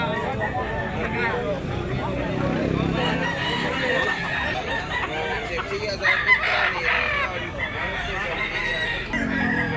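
Roosters crow and hens cluck amid a busy crowd at a gamefowl market in Tabunok, Talisay, Cebu, with people talking loudly throughout.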